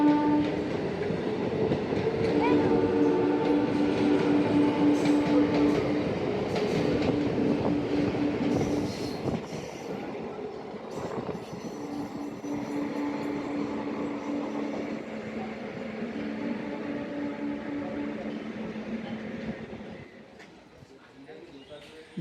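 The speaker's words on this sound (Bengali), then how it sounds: "ঝিরিঝিরি বৃষ্টির মধ্যে 4 নম্বর প্ল্যাটফর্মে প্রবেশ করছে ডাউন" A Down Medinipur–Howrah EMU local train of South Eastern Railway rolls into platform 4 in light drizzle, a loud close rumble with clickety-clack of wheels, squealing brakes and a horn, easing off toward the end as a voice talks over it.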